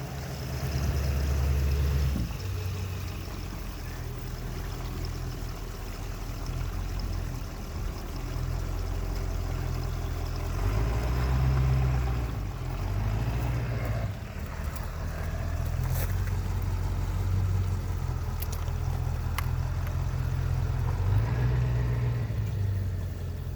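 Gray water from an RV holding tank pours out through the dump spout in a continuous rushing gush, with low gurgling surges rising and falling over about twenty seconds and no talk.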